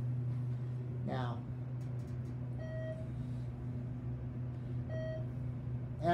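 Two short electronic beeps from a Thyssenkrupp traction elevator in an office building, like a checkout scanner, sound a couple of seconds apart over a low steady hum, with brief chirpy sounds at the edges.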